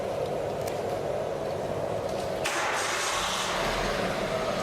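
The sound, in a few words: car engine starting and running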